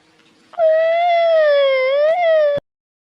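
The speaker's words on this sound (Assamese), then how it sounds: "এতিয়া বলক এম্বুলেঞ্চ আহিলেই" A cartoon ambulance siren wails steadily for about two seconds, loud and close, with a slight rise in pitch near the end before cutting off abruptly.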